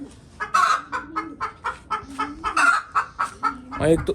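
A broody mother hen clucks repeatedly and close, in a rhythmic run of short, throaty clucks that ends in a louder, rising squawk, with no voice over it.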